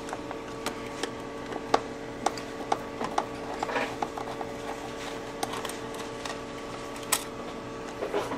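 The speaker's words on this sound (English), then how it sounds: "you're going to take the four screws out of" Screws being backed out of the cover of a Honda EU2000i portable generator, a run of small metallic ticks and ratcheting clicks at an uneven pace over a faint steady hum, close and quiet.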